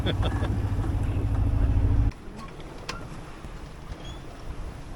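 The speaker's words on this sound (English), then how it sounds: "The wind's picked right up." Wind roaring loudly past a sailboat heeled over and sailing alone, a dense broadband rush that cuts suddenly to a quieter, lighter whoosh halfway through.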